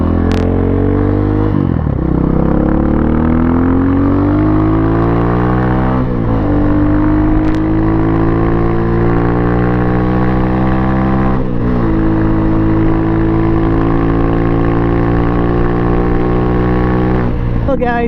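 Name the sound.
Pitster Pro XTR250 dirt bike engine running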